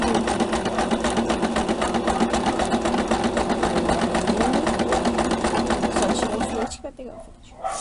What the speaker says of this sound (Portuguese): ela vai vir costurando, dando retrocesso na beiradinha